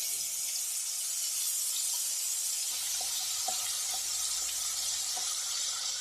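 Onion, green chili and ginger frying in hot oil for a spicy tamarind-leaf chicken curry, giving a steady broadband sizzle with a few soft stirring clicks partway through, close and continuous with no talking.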